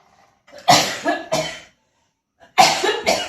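A fit of loud, close coughing: two harsh coughs, a pause, then two more.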